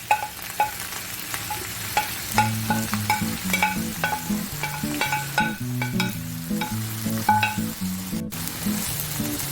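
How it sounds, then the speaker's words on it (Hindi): Vegetables stir-fried in a pan for Singaporean fusion rice, with steady loud sizzling and repeated scraping and clanking of a utensil against the pan in an irregular rhythm. "अब इसमें हम ये तमाम वेजिटेबल्स जो हैं ये डाल के इनको हम इसमें फ्राई कर लेंगे"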